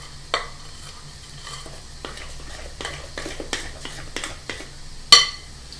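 Chocolate cake batter whisked in a bowl, quiet rhythmic scraping and tapping strokes against the bowl, ending in one sharper clink, no talking.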